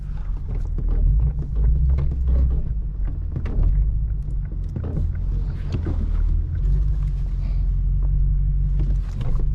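Lexus RC F engine revving hard while the car sits stuck on a ramp: a deep, steady exhaust rumble with surging throttle, loud and close, with no voices.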